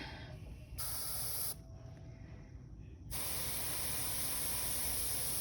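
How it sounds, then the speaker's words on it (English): Aerosol spray paint hisses onto a miniature in bursts, a close, loud, steady noise that drops and resumes, with a long continuous spray at the end. "I'm just going to be spraying from kind of a slightly tilted up like this vantage as I spray these."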